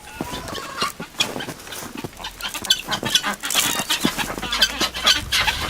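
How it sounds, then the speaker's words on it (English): A flock of guinea hens calling loudly, overlapping in a busy, raucous chorus, harsh repeated cries rising and falling without pause, close by and outdoors. "Those are guinea hens. Guinea hens are always loud."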